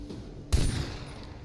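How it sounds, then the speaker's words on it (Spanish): A single close gunshot fired at a wild boar in the video game Far Cry 3, a sharp bang with a short rumbling tail and no talking. "¿Cuántos tiros la hay que meter?"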